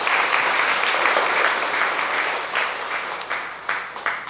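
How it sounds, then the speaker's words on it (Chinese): Church congregation applauding during a Taiwanese-language service, steady dense clapping throughout that thins slightly toward the end, close and fairly loud. "这么享受掌声吗？"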